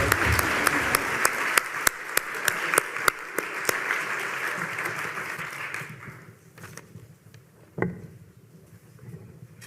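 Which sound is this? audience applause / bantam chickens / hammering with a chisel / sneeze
audience applause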